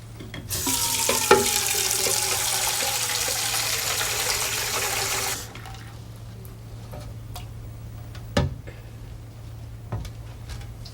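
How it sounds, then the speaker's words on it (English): Water runs from a tap into a glass, a steady loud gush for about five seconds before the flow stops, followed by a few light clinks and taps in the quiet. "Fill it with water."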